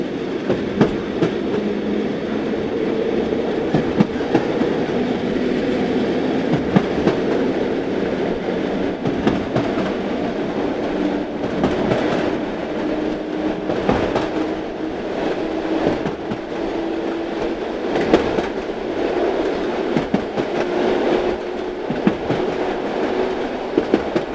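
A passenger train on the Shamli–Delhi line rumbles steadily along, with wheels clattering over rail joints and a continuous roar of carriages in motion.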